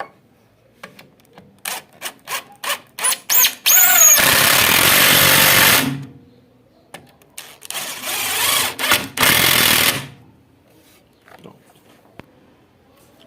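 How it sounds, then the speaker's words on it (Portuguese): A power screwdriver drives a screw into melamine-faced MDF furniture board, with a series of short rhythmic bursts building into a sustained loud whir, then a pause and a second long driving whir, close and without talk. "vamos utilizar aqui agora a mesma ferramenta, com a mesma força, para poder parafusar"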